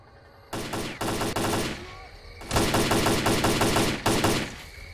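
Bursts of automatic gunfire in the shooter game S.T.A.L.K.E.R.: Clear Sky, loud and close, coming in several long rapid volleys separated by short pauses.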